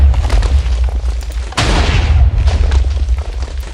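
Minecraft TNT cannon blast: a sudden loud boom erupts midway through, a sharp explosive burst over a steady low rumble of game ambience, with no voices.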